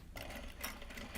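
A sewing machine stitches fabric gyoza bags made from Japanese fabric, running steadily at close range with a continuous mechanical whir and a faint ticking rhythm throughout.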